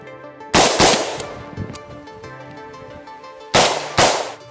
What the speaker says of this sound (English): Today, we're here to do individual and paired live fire exercises.